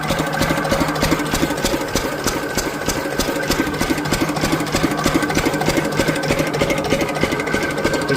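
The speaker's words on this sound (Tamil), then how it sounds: "கிட்டத்தட்ட ஒரு 30 வருஷமாக நம்மக்கிட்ட இருக்குது இந்த டீசல் இன்ஜின்" A diesel engine about thirty years old drives an irrigation water pump, running on and on with a steady, rattling mechanical chug that holds its tone throughout.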